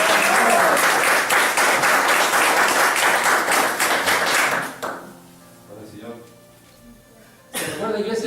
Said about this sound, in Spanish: Yo creo que el Señor se merece otro aplauso